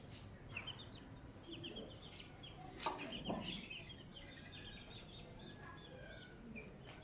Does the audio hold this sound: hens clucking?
yes